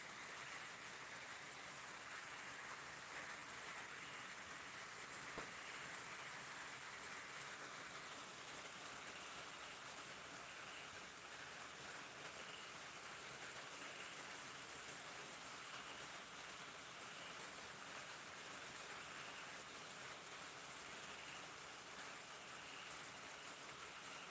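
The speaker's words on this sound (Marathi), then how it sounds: "आवाज येत आहे पाऊस पडल्याचा" A steady, faint hiss of rain falls without pause, an even wash of sound with no voices.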